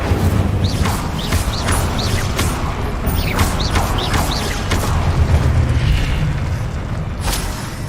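An Incendio fire spell erupts repeatedly in Hogwarts Legacy, loud rumbling booms and crackling whooshes in quick bursts, with sharp impact hits layered over a dense, roaring combat backdrop.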